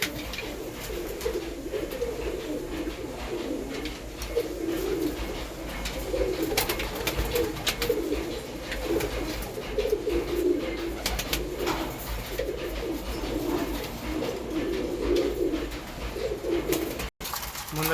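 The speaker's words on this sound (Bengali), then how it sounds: "দেখুন পায়রা কত মস্তিতে দানা খাচ্ছে" Pigeons coo in soft, repeated low bursts nearby as they feed on grain, with their calls rising and falling steadily through the stretch.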